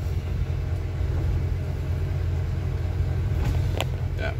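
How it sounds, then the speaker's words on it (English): Interior of a London double-decker bus on the road: a steady low engine and road rumble fills the cabin, with a few faint rattles and creaks near the end and no speech. "this is the famous London upstairs buses"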